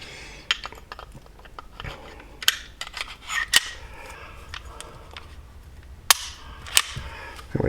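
Metal clicks and sharp snaps from a Wilson EDC X9 pistol being put back together by hand, slide and parts clacking in a scattered, irregular rhythm, close and moderately loud.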